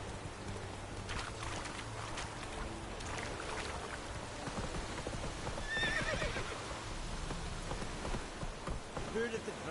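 A horse gallops in the Witcher 3 video game, with rhythmic hoofbeats pounding steadily under falling rain and a brief neigh partway through.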